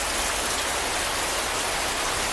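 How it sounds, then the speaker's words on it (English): Steady rain falls on a home garden in Sri Lanka on a wet March day, a dense, even hiss of drops hitting leaves and ground, close and unbroken, with no voices. "So it's another rainy day in Sri Lanka."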